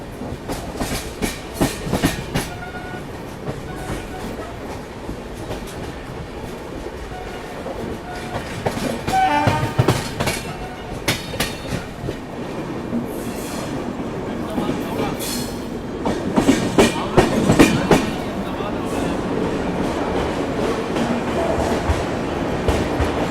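A passenger train rolls on its rails toward Gondia Junction, heard from on board as a steady rumble broken by repeated clickety-clack wheel beats and occasional squeals, loud and close throughout, with faint voices now and then.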